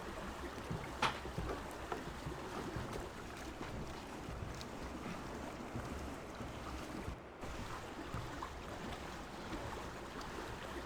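A boat sailing across open sea in the video game Ark, a steady wash of water and wind rushing past without a break, with no voices.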